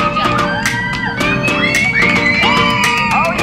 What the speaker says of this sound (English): had all of her friends there to cheer her on